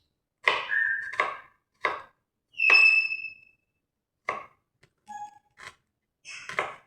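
Vegetables being cut for noodles in a home kitchen: a few sharp, separate knife chops and slices, close and distinct, with brief ringing metallic tones between them and quiet gaps in between.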